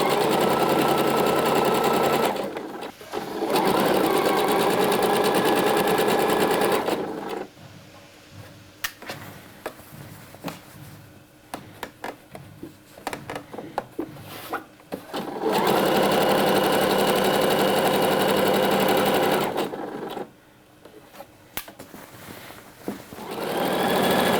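A sewing machine stitches fabric for a blouse or dress and back-tacks, running in several long steady whirring bursts separated by short pauses and handling sounds.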